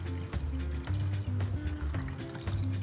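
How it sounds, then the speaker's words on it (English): Water pours into jars at the start of a children's science experiment with food colouring and shaving foam, a steady filling and trickling sound that runs throughout with no talk. "First, the water goes into these jars."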